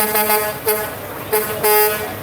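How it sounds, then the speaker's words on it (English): Semi truck air horns honk in several separate blasts at a Fourth of July parade, loud and close over a steady low engine rumble. "The kids love when they honk their horns."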